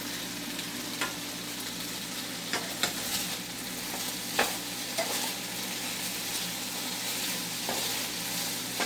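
Gravy bubbling and sizzling in a pan on a stovetop, a soft steady simmer with scattered small pops and occasional stirring scrapes, quiet and close with no voices.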